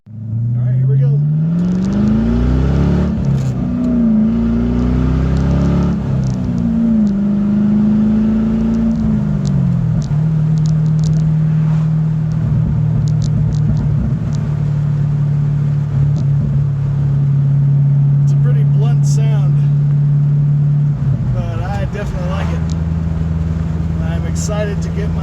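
A 2004 Pontiac GTO with a new exhaust accelerating hard on a road, the engine climbing through several gears with shifts, then holding a loud steady drone, heard from inside with a voice talking over it.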